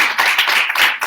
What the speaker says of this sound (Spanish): un aplauso para el doctor